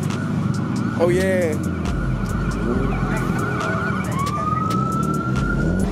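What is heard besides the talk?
ambulance siren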